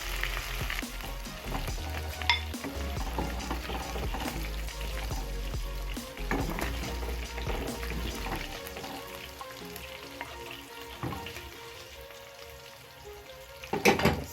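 Food frying in hot oil in a pan, a steady close sizzle and crackle that continues throughout with occasional utensil clinks and a louder clatter near the end, with no talk.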